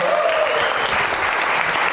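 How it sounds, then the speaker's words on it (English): Comedy club crowd in Malta breaking into applause for a married couple in the audience, a dense, loud burst of clapping that fills the short moment without pause. "Round of applause for them."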